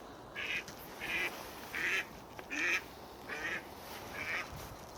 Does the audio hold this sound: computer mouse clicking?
no